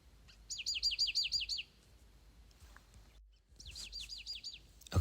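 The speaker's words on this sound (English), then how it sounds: "we have these two birds, the exact same bird. They're talking to each other right now." Two birds of the same kind call back and forth along the South Rim Trail in Big Bend National Park, each giving a quick series of clear, repeated chirps, one burst followed by an answering burst after a short pause.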